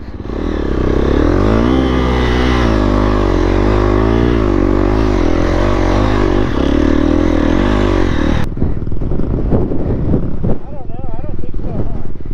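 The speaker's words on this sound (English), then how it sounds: "Get on the bike, Gina!" Dirt bike engine running loud and close for about eight seconds, its pitch wavering as it revs on rough ground, then cutting out abruptly, leaving scuffling and clattering noises behind.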